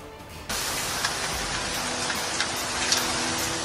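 Rain falls steadily in Islamabad and Rawalpindi, a dense, even hiss that starts abruptly and then continues close and constant, with faint drips and splashes showing through.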